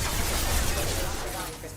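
Gunfire in a first-person shooter video game crackles in a dense, continuous burst of rapid shots, loud and close, under a busy mix of game noise.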